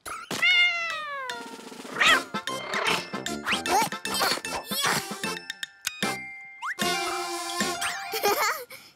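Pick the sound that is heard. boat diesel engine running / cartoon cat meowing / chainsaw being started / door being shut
cartoon cat meowing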